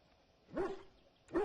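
A dog in the Dragon Age video game gives two short, clear barks, about a second apart, over a quiet background.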